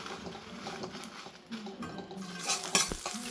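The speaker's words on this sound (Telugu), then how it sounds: "ఇవి కూడా దోరగా వేయించుకుందాం. చూడండి వేస్తున్నా. దీనికి కొంచెం నూనె వేద్దాం." A spoon scrapes and stirs cucumber seeds roasting in oil in a pan, with irregular metallic clinks and a soft sizzle underneath, growing busier toward the end.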